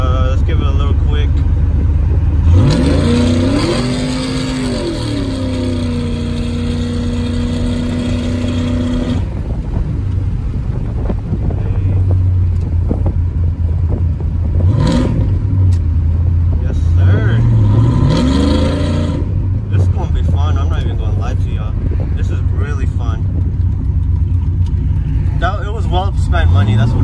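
A car with a cammed 5.3 engine and a fresh exhaust revs and accelerates, its choppy idle lope rising into loud rising pulls, with a couple of separate surges over about 27 seconds; a person talks now and then over the engine.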